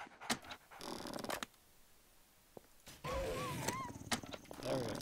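Several agitated dogs pant and move about close by, with rapid breathy panting, scuffling and a few whines, interrupted by brief sharp knocks and a quieter gap.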